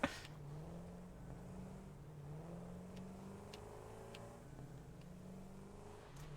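Explorer vehicle driving in the video game Satisfactory, a steady low engine drone with gentle rises and falls in pitch as it revs, continuous and close, with a few faint clicks over the top.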